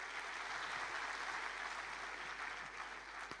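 An audience of schoolchildren at a flag-themed event applauds a student's question, a dense, even burst of many hands clapping continuously for a few seconds, fairly loud and close.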